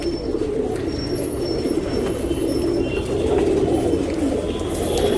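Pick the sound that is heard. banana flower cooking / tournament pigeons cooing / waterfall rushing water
tournament pigeons cooing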